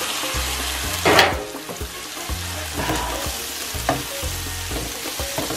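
Mushrooms sautéing in a covered pan give a continuous close sizzle, with a sharp burst of spatter near the start and a few clanks of a utensil or lid.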